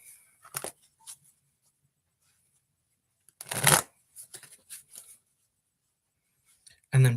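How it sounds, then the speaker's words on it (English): Tarot cards being riffle shuffled in a few quick bursts, crisp flutters close by separated by quiet pauses, with a final louder snap at the end. "shuffle a few times,"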